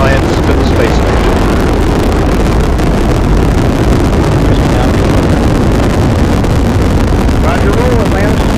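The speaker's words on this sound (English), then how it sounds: "main engine ignition, 4, 3, liftoff of Space Shuttle Atlantis" Space Shuttle Atlantis main engines at liftoff from Florida, a massive continuous rumbling roar that stays steady and overwhelming throughout, with a voice faintly present beneath it.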